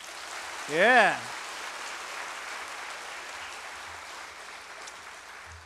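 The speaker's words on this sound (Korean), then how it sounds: "격려의 박수 한번 보냅시다." A church congregation claps for a youth choir, a soft, even wash of applause that sounds somewhat distant and holds steady; a brief spoken word rises above it near the start.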